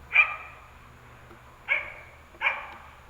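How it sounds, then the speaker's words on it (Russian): A rescue search dog at an emergency-ministry canine training camp barks three times to signal a found person. Each bark is sharp, well spaced and moderately close, with quiet between barks. "Сейчас собака голосом обозначает свою находку."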